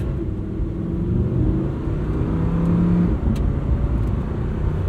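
A red Lamborghini sets off in drive, its engine a loud, close, low rumble that builds steadily with a slight rising tone, heard from inside the car with no talking.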